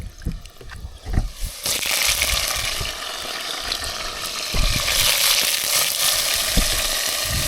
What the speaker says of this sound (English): now I'm stirring the onions